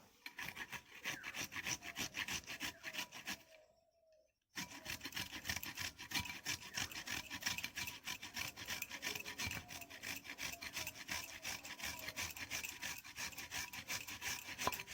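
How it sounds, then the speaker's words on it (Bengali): Carrots rubbed one at a time against a metal kitchen grater, giving steady rasping scrapes in quick repeated strokes, close and fairly loud, with a brief pause partway through. "এবারে আমি গাজরগুলোকে একটা করে ঘষে নেব"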